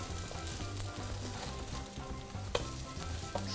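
French toast slices sizzle and fry steadily in a hot pan, a dense crackling hiss running throughout with a couple of sharper clinks near the end and no talking.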